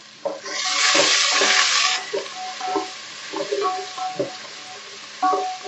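Chopped onions hit hot oil for chicken biryani, bursting into a loud hiss that settles into a quieter sizzle, with clinks and scrapes of a utensil stirring the pan.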